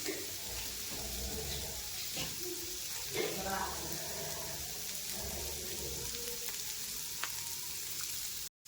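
Sliced bitter gourd sautéing in a pan for a Maharashtrian bitter gourd vegetable dish, with a steady, continuous sizzle and crackle throughout and faint scraping from stirring.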